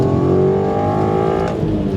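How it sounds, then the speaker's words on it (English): An Audi TT pulls uphill in fifth gear from a low 1200 RPM under full throttle, its engine giving a smooth, steady drone close by for two seconds with no talking. "if we switch to my TT, 1200 RPM, 5th gear, foot down, and it pulls very smoothly and quite happily up this hill"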